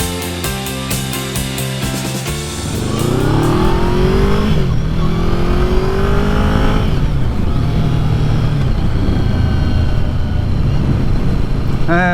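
A Yamaha VMAX motorcycle engine accelerates hard while riding, revving up through rising gear pulls after a brief lower-pitched stretch, loud and close with strong wind rush underneath.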